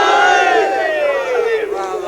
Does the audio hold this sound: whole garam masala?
no